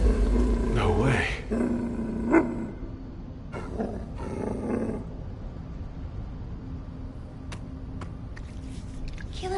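A dog creature in the video game The First Descendant gives low, rumbling growls over a steady game soundscape, with a louder snarl early on and scattered clicks and effects afterward.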